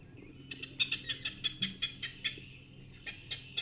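Recorded bird song played back through a Norns synthesizer: a rapid series of bright, clipped chirps repeating in a regular rhythm, pausing briefly, then resuming with a few more notes.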